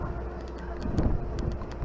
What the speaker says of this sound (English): It's kind of windy out here today.